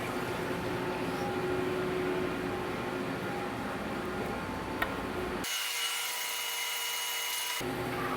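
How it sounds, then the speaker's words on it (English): An EDM machine fires electric sparks from a copper electrode into steel while cutting a tray mold, giving a continuous loud crackling hiss that shifts abruptly in tone partway through. "So all those electric sparks are shooting from the copper into the steel and blowing off little chunks of"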